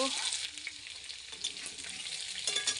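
Potatoes frying in oil and being stirred in a pan while cooking a rui fish dish: a steady bright sizzle throughout, with scraping stir sounds breaking through, close and fairly even in level, no talk.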